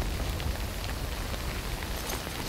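Steady rain pours down in the video game Death Stranding, a dense, continuous hiss of drops on surfaces with no voices, even and fairly loud throughout.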